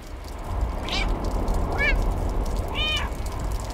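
Cat meowing in the video game Stray, three short distinct meows spaced about a second apart over a steady ambient game background.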